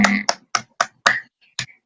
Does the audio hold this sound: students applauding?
yes